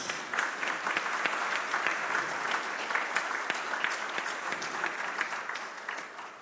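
Audience at a national congress on access to justice applauding as a pianist is welcomed, a steady, moderately distant wash of many hands clapping without pause.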